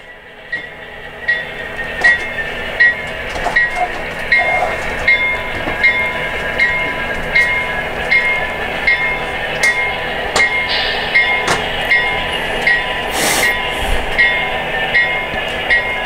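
A train of Mexico's national railways rolls past with steady rhythmic clickety-clack of wheels over rail joints, a continuous rumble and metallic squeal underneath, fairly close and loud.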